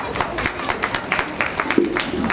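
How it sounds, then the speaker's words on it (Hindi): A crowd claps loudly after a street play performance, a dense steady patter of many hands running the whole stretch with no break. "जोरदार तालियां इसके"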